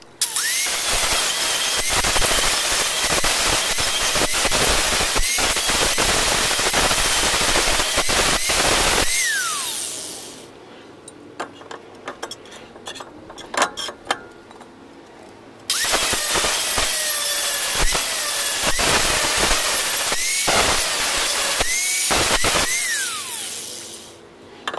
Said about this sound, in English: we're gonna grind that part off